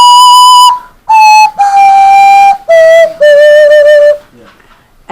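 A handheld whistle is blown across a pop bottle while the player wiggles their tongue, giving loud, bright, warbling tones. The notes are held and separated by brief breaks, with a wavering pitch that shifts between phrases like a simple tune.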